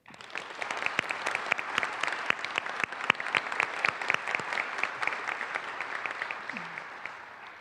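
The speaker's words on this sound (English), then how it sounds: "ask for a round of applause for Dr. Milichewski" A room full of people at a town meeting applauds steadily for several seconds, many hands clapping at a fairly even level before tapering slightly.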